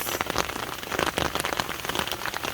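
Rain hammers down on a campsite in Glacier National Park during a storm, a dense, loud, steady patter of drops striking nearby surfaces with no voices.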